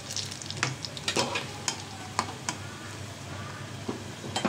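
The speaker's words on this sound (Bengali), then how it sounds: "আর বাকি যে বাজারগুলো ভাজা দিতেছি আমি" Vegetables fry and sizzle in a pan while a utensil stirs them, giving repeated scraping clatters over a constant hiss, close and without speech.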